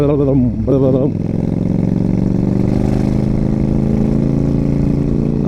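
A Yamaha XVS 1300 Stryker cruiser engine rumbles at low revs, a deep steady throb close by after a short blip of revving at the start.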